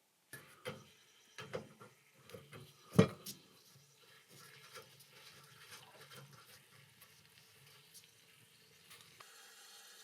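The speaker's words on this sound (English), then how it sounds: "let's get this cylinder drained down and then we can start beginning on the work" Water draining from a hot water cylinder during a combi boiler conversion: a few knocks and clunks at first, then a faint, steady trickle and gurgle running through the pipework, with no voices.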